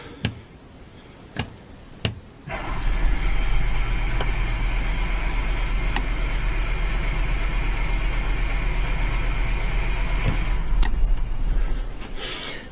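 An Onan 4000 generator set is cranked over and catches, then settles into a steady, loud, droning idle that runs unbroken to the end, with a few faint clicks and ticks before it starts.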